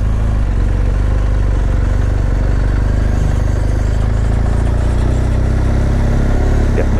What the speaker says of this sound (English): What insane motorcycles.